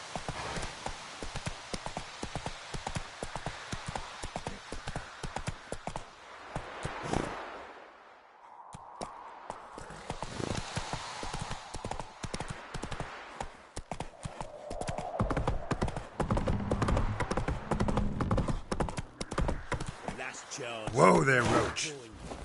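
Hooves of Roach, a horse, clopping at a trot, then slowing and stopping as it is reined in; the rhythmic footfalls fade briefly and resume more loosely, while a voice talks over them.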